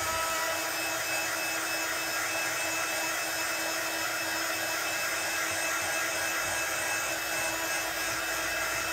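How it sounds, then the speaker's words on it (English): A heat gun blasts hot air over a handmade card to dry it, making a steady, loud, unbroken whooshing roar that holds evenly for the whole stretch with no talk over it. "just take my heat gun and just blast this over"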